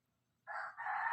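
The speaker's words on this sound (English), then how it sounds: "the roosters are already singing" A rooster crows nearby in a single clear, drawn-out call that starts abruptly after a moment of quiet.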